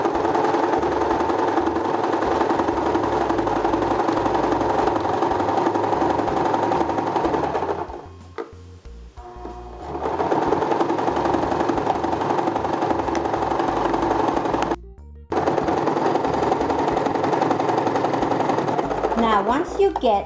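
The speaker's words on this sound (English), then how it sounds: "Always go back a little bit on the sewing machine" Sewing machine stitching a double-sided fleece blanket, a fast continuous mechanical whir with a pause midway and a brief stop near the end, loud and close, running under talk.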